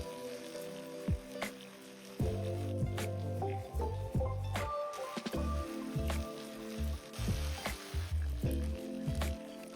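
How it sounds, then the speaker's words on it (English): Chicken pieces hiss and sizzle in hot oil, with pops, spatters and scraping of the pan in a steady, crackling cook. "Heat up a frying pan, add a little oil, and start frying the chicken"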